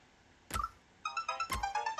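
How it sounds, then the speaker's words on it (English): A mobile phone ringtone chimes in two quick bursts, each opening with a sharp attack and then a bright melodic run of tones, clear and close with no talking. "And of course I forget to mute my freaking phone."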